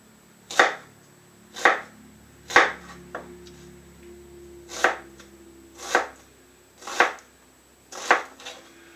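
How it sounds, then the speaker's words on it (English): Knife chopping food on a cutting board during a cooking class: eight crisp, separate chops at a slow, fairly even pace, close and clear against a quiet room. "As you're cutting, follow through, follow through, follow through."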